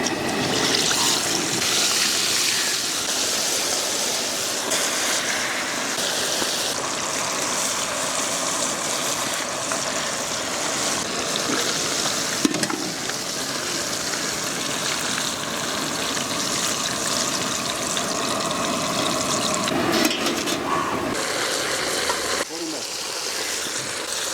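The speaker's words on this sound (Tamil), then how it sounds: "மீன் பொரிச்செடுக்க எண்ணெய் சேர்த்துக்கலாம்" Kanakatha fish frying in a large pan of hot oil in an outdoor village kitchen: a loud, dense, unbroken sizzle and bubbling roar that holds steady for the whole stretch with only slight swells.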